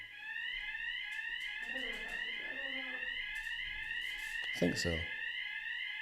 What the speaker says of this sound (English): I want a little fire alarm drill here